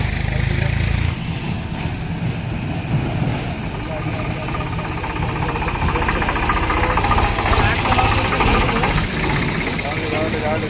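Tractor engine idling in a village field while a trolley is loaded with hay, a steady mid-pitched chugging rumble running throughout under nearby people talking.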